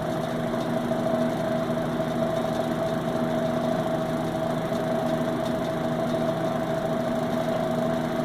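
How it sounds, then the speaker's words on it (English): A vintage Hurricane 12-inch box fan motor running steadily, a constant even hum with a whooshing airflow, close and unchanging throughout, with no talking. "Motor runs really good."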